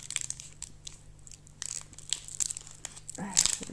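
Plastic wrapper of a Pokémon card booster pack crinkling and tearing open, with close, irregular rustles in bursts and a louder crackle near the end over a low background hum.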